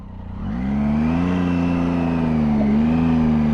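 A Triumph Tiger 800 XCA motorcycle engine revs hard off-road as the rear wheel loses traction, rising from a low idle into a loud, steady, sustained whine that holds close and unbroken with no talk.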